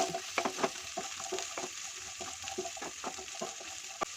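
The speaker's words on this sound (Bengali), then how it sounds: "কেটে রাখা গাজর আর দিয়ে দিলাম বিনস দিয়ে এটাকে ভালো করে নাড়িয়ে একটু ভেজে নেব" Chopped carrots and beans frying in a pan for a Bengali mung dal, a soft, continuous sizzle with repeated light taps and scrapes of stirring, fairly quiet and close.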